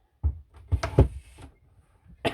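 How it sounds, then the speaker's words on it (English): A die cutting machine slams shut with a few sharp, close bangs and clunks, followed by a quiet pause and one more loud knock at the end. "sometimes it makes a loud noise when it shuts"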